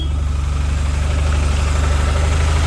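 Vehicle engine idling at close range, a steady low rumble with a regular throbbing pulse and a faint rise in revs, running alone without voices.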